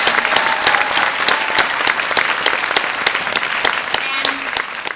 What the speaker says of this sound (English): A big round of applause for Paige